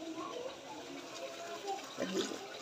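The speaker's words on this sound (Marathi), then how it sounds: "आता जे हे पाणी आहे ना ते टाकायचं आहे" Water is poured into a pan of hot, oily red spice masala, a short gush and hiss rising near the end over a steady background rush.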